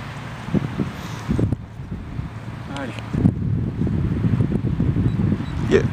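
Wind buffeting a microphone outdoors near a glider launch, a steady rough rumble with gusty swells throughout, under intermittent talk.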